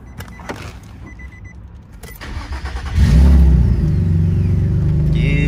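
An Infiniti G35 coupe engine turns over and settles into a loud, steady idle with a rough, low rumble.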